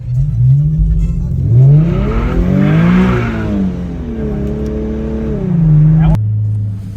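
A Nissan 370Z with a muffler delete passing by, a loud raspy engine note rising and falling in pitch as it revs and sweeps past up close, ending in an abrupt cut.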